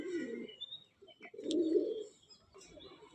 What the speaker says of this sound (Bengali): কবুতর ছেড়ে দিয়েছি আমি, চালের ওপরে সব কবুতর ছাড়া আছে।